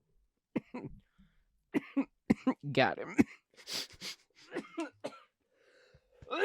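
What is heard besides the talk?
coughing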